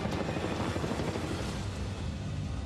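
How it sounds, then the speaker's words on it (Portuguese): A Black Hawk military helicopter flying on a secret operation, a steady loud rotor and turbine roar that fills the whole clip with no voices. "Esse helicóptero é militar. É um Black Hawk."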